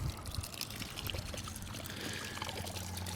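Water pours and trickles steadily from opened drain valves on an outdoor irrigation backflow preventer, a continuous close splashing flow with no talk.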